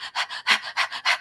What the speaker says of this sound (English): It's going to be breath in and out through your nose, almost like you're panting.